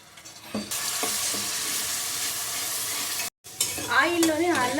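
Ginger garlic paste frying in hot oil makes a loud, continuous sizzle close by, with a few stirring knocks early on, a brief break near the end, then spluttering pops.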